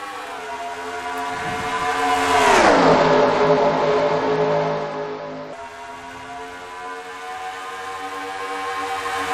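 Video game race cars in a Pokemon cup series surge away at the green flag, a loud massed engine drone rising in pitch to a peak, then settling into a steady sustained whine.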